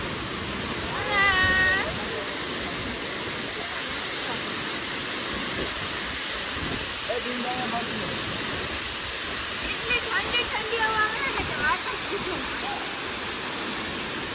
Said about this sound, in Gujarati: તમને એક મસ્ત એવું ઝરણું બતાવું